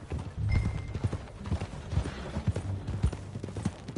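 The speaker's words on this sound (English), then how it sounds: "That a new horse?" Hooves of a filly in Red Dead Redemption 2 clip-clop in a quick, uneven rhythm on hard ground, close and fairly loud, with faint background ambience and no speech.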